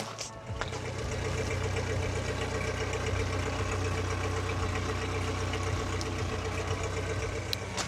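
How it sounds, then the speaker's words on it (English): A Yamaha 100 hp outboard engine, a 2019-or-later model being serviced, idles steadily after warming up for several minutes. It gives a continuous, close, even drone with a light rhythmic ticking and no talk. "Alright, the engine has been running for 5 minutes."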